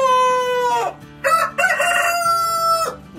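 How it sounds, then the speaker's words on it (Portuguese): Young roosters crow early in the morning alongside a larger rooster, several loud, close crowing calls overlapping and following one another with short gaps. "O galo grande vai cantando e eles vão atrás, puxando o canto aí."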